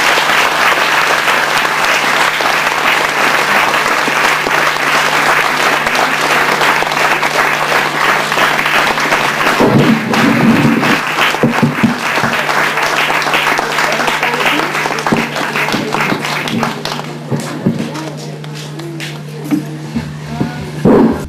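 An audience at a spiritual festival gathering claps loudly and continuously to welcome an honoured elder, a dense sustained roar of applause that thins out toward the end, with a voice faintly audible under it.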